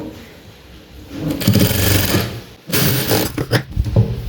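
A sewing machine stitches fabric for a round-belt blouse, its motor buzzing in two close, steady runs separated by a brief pause, with small mechanical clicks at the ends.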